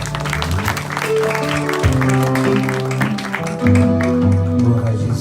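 A church congregation applauds at a church opening service, steady clapping blended with loud music and sustained voices, filling the space without a break.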